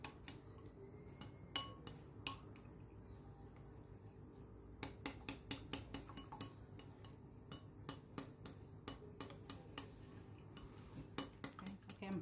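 A spoon clinks and taps against a bowl while mixing a sauce of tomato paste, plain yogurt and oil, giving quiet, irregular metallic ticks that grow busier and more rapid in the second half, with no talking.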